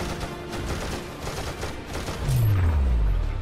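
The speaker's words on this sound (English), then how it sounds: "Did you really have to shoot it so much to destroy it?" Rapid gunfire from Lego Marvel Super Heroes as a character shoots at an object, a continuous rattling fusillade with game sound effects and a low descending whoosh near the end.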